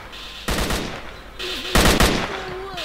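An enemy fires automatic bursts in the game S.T.A.L.K.E.R.: Call of Pripyat: two loud, clattering volleys of rapid shots separated by a short quieter pause, with faint background tones between them.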